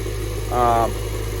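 A John Deere tractor with a sprayer hooked up idles nearby, a steady low engine hum running throughout, briefly overlapped by a short voice.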